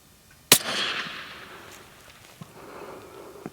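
A single sharp rifle shot fired at a 400-yard steel target on a precision shooting range, loud and close, followed by a rolling echo that fades over a few seconds, with a faint distant report or impact later.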